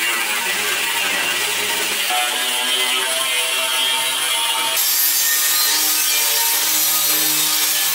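Steel doors for a homemade reverse-flow BBQ smoker are ground and sanded with power tools, making a loud, steady rasping roar that runs unbroken and close-up, with no talking.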